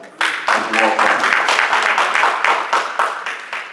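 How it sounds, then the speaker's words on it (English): A crowd claps steadily and fairly loudly for several seconds, with a voice speaking over the applause. "a round of applause"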